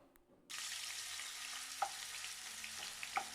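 Cauliflower dropped into hot coconut oil with curry leaves for chilli cauliflower: after a brief quiet moment a loud, steady close-up frying hiss begins and holds, with a couple of small clinks, no talk.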